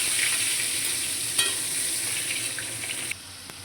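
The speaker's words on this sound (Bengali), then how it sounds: "এদিকে আমি মাংসের জন্য আলু ভেজে নেব, তেল গরম হয়ে গেছে" Potatoes frying in hot oil for a mutton dish give a continuous bright hiss, with a sharp spatter pop partway through and a sudden drop in level near the end.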